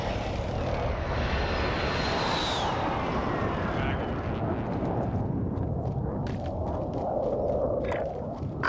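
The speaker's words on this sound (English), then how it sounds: "Oh, airstrike, airstrike." An airstrike aircraft in a video game roars overhead in a loud, sustained engine sweep that builds to a peak, followed by rumbling blasts, with players talking over it.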